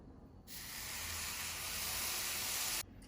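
Smooth spice paste hits hot roasted spices in a pan for restaurant-style mutter paneer, bursting into a loud, steady broadband sizzle that holds for about two seconds before cutting off sharply.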